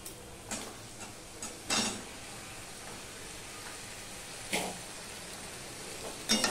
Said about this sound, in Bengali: এবারে আমি দিয়ে দিচ্ছি ঝিঙেগুলো